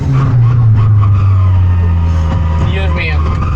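A 1980s Ford Escort fitted with a roughly 300 hp turbocharged rally engine and anti-lag idles with a loud, deep, close drone, then rises into a raspier rev with crackles near the end while someone talks over it.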